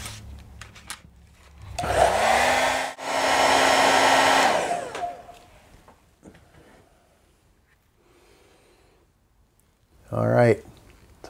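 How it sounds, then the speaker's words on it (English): A hair dryer used to quick-dry paint swatches whirs loudly in two bursts, the first starting with a rising pitch, then cuts off, followed by quieter handling sounds and a brief scraping noise near the end. "I'm going to quick dry these with the hair dryer so you can have a look."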